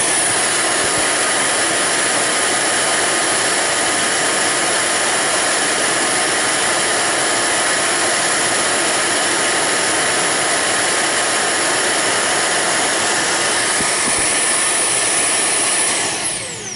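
A budget cordless pet vacuum cleaner runs on its high setting with a loud, steady whooshing roar and whine that holds constant for about sixteen seconds before tapering slightly at the end.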